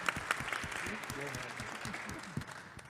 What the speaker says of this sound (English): yes, let's clap for Ryan.